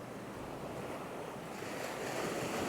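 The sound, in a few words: waves on Nang Thong Beach, Khao Lak, Thailand, at dawn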